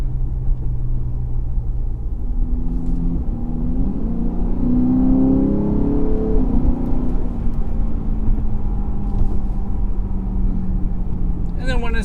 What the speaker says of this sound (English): that naturally aspirated V8 just sounds so good